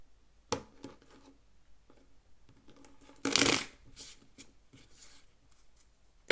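Close-up card shuffling: soft clicks and rustles, then one loud riffling burst of cards, followed by quieter handling noises.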